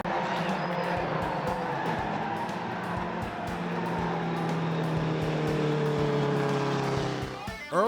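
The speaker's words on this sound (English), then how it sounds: "Denowitz got into the back of number 70, spinning Ehrlich and several other cars" Stock cars racing on an oval track during a 2002 series race, with several cars spinning after contact; steady loud engine roar throughout, ending in a short burst of tire squeal and skidding.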